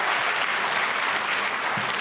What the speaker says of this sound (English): that's worth some applause.